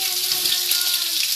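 Kitchen sink tap running, a steady bright hiss of flowing water close by, unbroken throughout the short stretch.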